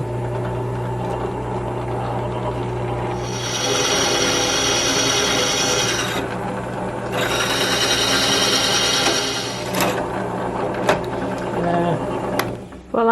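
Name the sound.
drilling holes in a log for a staircase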